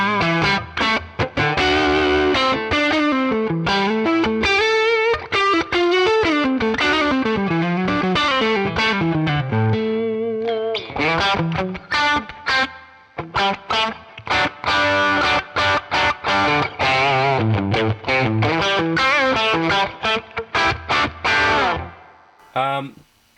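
An electric guitar plays through a Tonex capture of a Deluxe Reverb amp, giving clean chiming notes and chords with spring reverb. The phrases run steadily and loudly and stop near the end.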